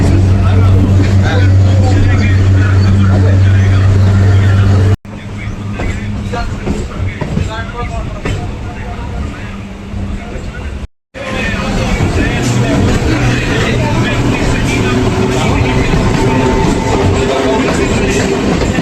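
Sealdah–Diamond Harbour galloping local train running at speed, a loud continuous rumble and rattle heard from on board, with a brief dropout partway through and someone talking over it.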